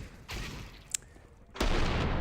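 Gunfire in a Counter-Strike professional match, a couple of sharp loud bursts with a brief crack between them, set against low background crowd and game ambience.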